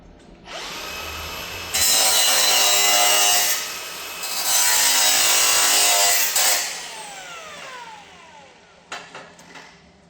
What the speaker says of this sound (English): Anyway, we'll get the grinder.